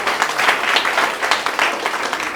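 Audience applause at an RCM business success event, a steady wash of many clapping hands sustained throughout, moderately loud with no voices on top.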